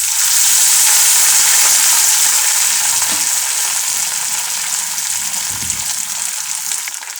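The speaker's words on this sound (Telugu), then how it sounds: "చూడండి, ఇప్పుడు నూనె వేడైంది. ఇప్పుడు మనము దీంట్లో పుదీనా వేసుకుందాం." Mint leaves fry in hot oil with a loud, steady sizzle that fades slightly over several seconds, with a few soft stirring sounds beneath it.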